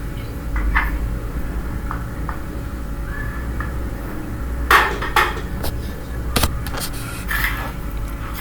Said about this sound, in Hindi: अच्छी तरह कूट लिया।